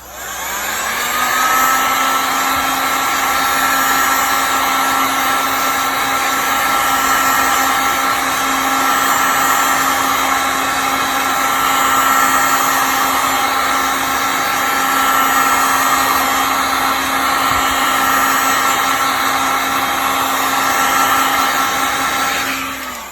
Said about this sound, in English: So I'm heat gun.